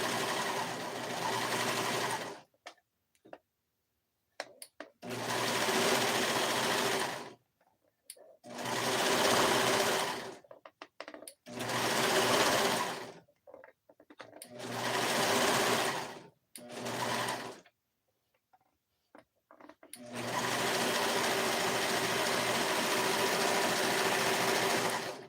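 A serger overlocks the fabric edge of a cardigan in loud, steady whirring runs close by. There are six bursts of stitching with short silent pauses between them, and the last run is the longest.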